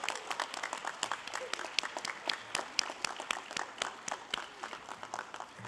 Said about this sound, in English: And let's give a little round of applause of congratulations and welcome.